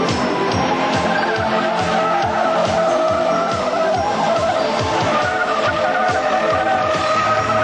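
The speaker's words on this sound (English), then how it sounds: "The slalom test and the skid pad will give us a chance to see how well this truck handles under extreme conditions." A 1992 GMC Typhoon performance truck circling a skid pad, tires squealing and skidding loudly and continuously with engine roar underneath, close and sustained.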